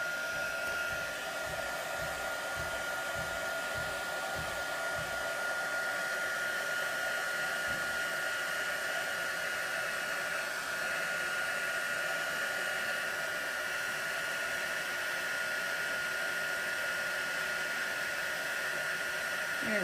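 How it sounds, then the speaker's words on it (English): A craft heat tool blows hot air steadily and loudly for the whole stretch, a continuous close rushing whoosh with no talk over it. "now we are ready to use our heat tool. Make sure it's hot."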